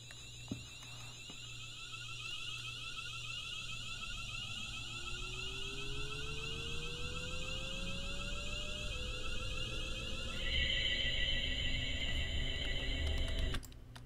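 A British Rail Class 350 electric multiple unit gives off steady high whines and tones, with a rising traction-motor pitch sweep climbing gradually as it accelerates, a constant low hum underneath, and the tones shifting and cutting off near the end.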